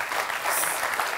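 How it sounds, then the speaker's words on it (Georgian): A studio audience at a Georgian TV comedy game show breaks into a short, dense burst of applause, loud and close, with many hands clapping together. "აპლოდისმენტები"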